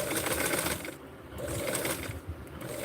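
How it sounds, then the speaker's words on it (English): A sewing machine stitching fabric onto a Barbie doll dress, running in close, continuous bursts with a brief slowdown between them, fairly loud, no talking. "Okay, so I'm holding it with the pin, and now I'm going to sew it on."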